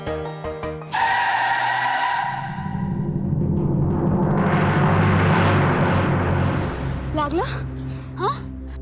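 A car brakes hard with a long, loud tire skid close by, then voices shout in alarm after the vehicle nearly hits someone on the road.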